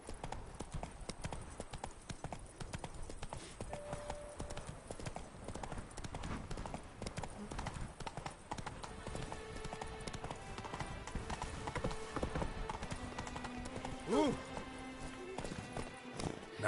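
Roach, a horse in The Witcher 3: Blood and Wine, trots with steady, rhythmic hoof clops throughout, mid-distance, with game music and brief voices in the background.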